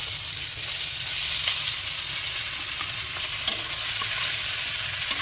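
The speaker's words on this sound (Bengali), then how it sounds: "এই প্রথমবার আমি এত বড় বড় চিংড়ি মাছ রান্না করছি বন্ধুরা" Large prawns fry in a hot pan with steady sizzling and spattering, punctuated by a few scraping stir clicks, loud and close with no talking.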